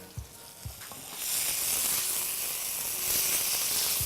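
Onions sizzle in a pan for chana bhaji, a steady close hiss of frying that swells after a couple of light knocks and carries on evenly without talk.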